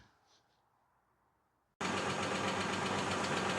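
A car engine cranks and catches abruptly after a quiet moment, then settles into a loud, steady idle with a rough, knocking rumble, close by and without talk.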